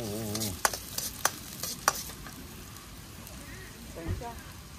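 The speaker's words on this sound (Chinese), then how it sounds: "这个倒进去爆香啊！" Ingredients hit a hot wok at a campsite with a soft, fine sizzle and frying crackle, punctuated by a few sharp clanks of a utensil against the pan, with brief murmurs in the background.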